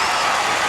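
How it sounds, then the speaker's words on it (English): A basketball arena crowd roars during an Indiana versus SIU game, a dense, steady wash of cheering and noise with no pauses across the brief moment. "Crowd roars as Eric Seward gets into the game."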